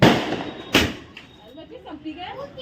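A single sharp firecracker burst cracks out close by at a child's birthday celebration, followed by a second loud bang a moment later, then low background chatter.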